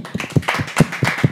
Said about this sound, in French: Donc félicitations, on peut l'applaudir.